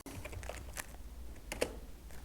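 Code is typed on a computer keyboard in a quiet room, with soft, irregular key clicks and a few sharper taps, close by and faint, with no talking.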